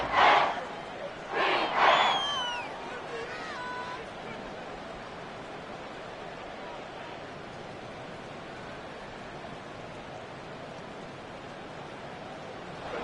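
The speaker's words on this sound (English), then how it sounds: "This crowd turning up the decibel level." Steady crowd roar in an EA Sports football video game, broad and sustained at a moderate level through most of the stretch, after a few louder whistle-like shouts and calls near the start.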